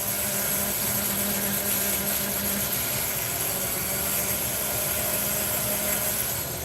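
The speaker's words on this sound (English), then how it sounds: "this is the only Dremel that I have" A Worksmith rotary tool, an off-brand Dremel, runs at a steady speed while working on diecast cars. It makes a continuous, fairly loud high whine with a constant broadband buzz and no breaks.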